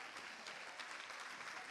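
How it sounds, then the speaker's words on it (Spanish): A church congregation claps together for the men of the church, a steady wash of applause from many hands, faint and somewhat distant, with no speech over it. "Le damos un aplauso a los varones"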